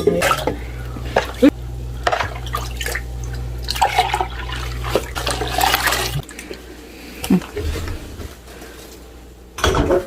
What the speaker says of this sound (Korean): 잘 저어가지고 밑에 바닥에 있는 것까지